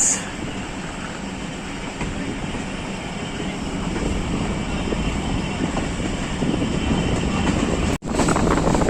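The Harat Express passenger train departing Fateh Jang, Pakistan, on a Sunday while overloaded, gives a continuous loud rumble of rolling wheels and carriages with wind buffeting, and a brief dropout near the end.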